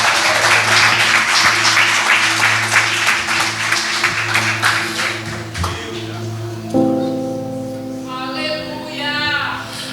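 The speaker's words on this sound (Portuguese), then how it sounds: "Irmãos, as palmas louvam o nome do Senhor Jesus." A church congregation at an Assembleia de Deus family service claps hands, with rapid clapping over a sung hymn and organ-like sustained tones and voices throughout.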